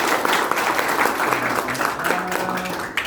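Audience at a company's first anniversary celebration clapping in a dense, lively burst, with faint voices mixed in, loud and continuous for the whole short stretch.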